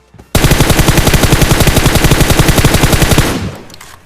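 Automatic gunfire in PUBG rattles out as one loud, close burst of rapid, evenly spaced shots lasting about three seconds, then quickly fades away.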